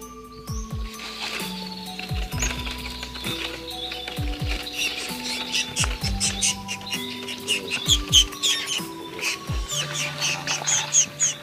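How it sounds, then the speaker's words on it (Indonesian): A recorded call of the small kolibri bird plays as a lure for bird hunting: quick high chirps and tweets repeat over a bed of stepped, buzzy tones. "Ini namanya kolibri, pemirsa, kolibri yang kecil itu."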